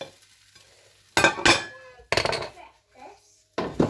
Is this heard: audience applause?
no